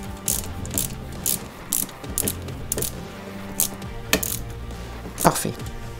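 A small screw is driven into a Lancia 037 model car kit with a hand screwdriver, giving close, crisp ratcheting clicks and light plastic taps in irregular bursts.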